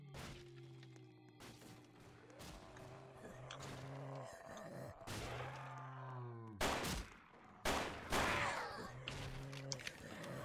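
Scattered shots from a wall-bought gun in Roblox Project Lazarus, a zombie survival game, irregular sharp cracks spread through the clip over a droning in-game hum, with a voice talking at times.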